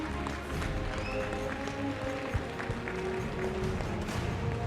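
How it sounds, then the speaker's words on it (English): Sustained applause and clapping from an audience at the IPM 2019 awards ceremony, a dense, steady wash of hands filling the room for several seconds without a break. "Big round of applause."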